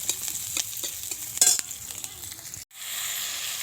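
Meat braising and frying in a pan, with a steady close sizzle and a series of scraping stirring strokes. The sound cuts out abruptly near the end, then comes back as a softer, even hiss.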